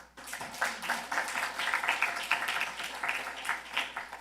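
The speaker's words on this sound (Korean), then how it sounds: "박수 한번 쳐봐봐요." A church congregation at a Sunday afternoon worship service claps together. The applause is steady and fairly close, with many overlapping hand claps forming a lively, uneven patter that holds for several seconds.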